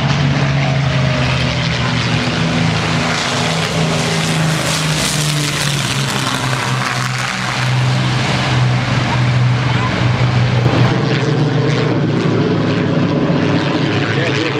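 A propeller warbird airplane, a Hawker Hurricane at a beach air show, roars loudly and steadily overhead, its engine droning with a deep rumble throughout.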